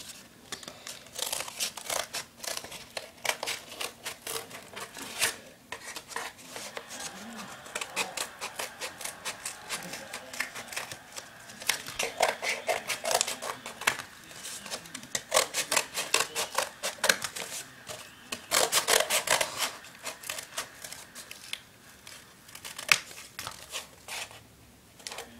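Scissors snip through paper or card while a homemade hamster toy is cut out, giving a steady run of close, dry crinkling and rasping cuts that come in bursts throughout, with no talking.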